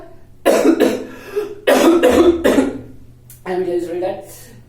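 A man teaching a chemistry lesson coughs repeatedly, several harsh close bursts in uneven clusters with brief pauses and a throat-clearing rasp between them.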